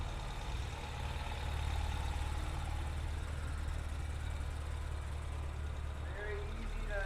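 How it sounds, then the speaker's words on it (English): A 1998 BMW E36 M3 engine idles steadily with a low, even rumble throughout, no revs, close by and continuous. "Just at an idle."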